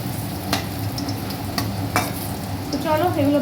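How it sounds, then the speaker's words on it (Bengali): Onion fritters and bokphool fritters sizzle steadily in hot oil in a home kitchen, a continuous frying hiss with light stirring clicks and a brief whistling tone near the end. "চলো এগুলো ভাজা হয়ে যাক।"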